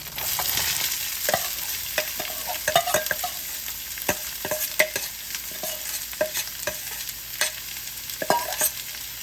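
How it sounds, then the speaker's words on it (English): Onions fry and sizzle in a pot for beef stew while a utensil stirs them, giving close scraping strokes and taps over a constant hiss. "Now we're going to put the onions in."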